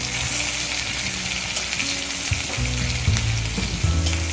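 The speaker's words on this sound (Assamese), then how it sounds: "এতিয়া আমি ইয়াতে পিঁয়াজ, জলকীয়া, পিঁয়াজ এইখিনি ভাজি ল'ম।" Onion and chilli fry in hot oil in a pan for a bamboo shoot fish curry, giving a loud, continuous close sizzle with occasional stirring scrapes and clatter.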